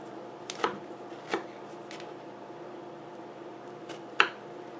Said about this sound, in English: What I'm going to do is I'm going to chop off the top.